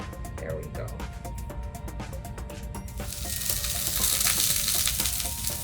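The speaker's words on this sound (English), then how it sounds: "let's go over to the grill to start grilling the octopus" Octopus grilling on a grill, with a steady bed of sizzling and hissing that swells louder midway, punctuated by light clicks and taps of handling, close and continuous.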